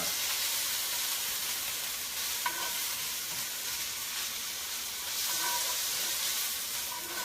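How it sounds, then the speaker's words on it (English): Bacon sizzles and spits steadily in a hot pan on a stove, a continuous close frying hiss with faint crackles and no talking. "look at that bacon cooking up"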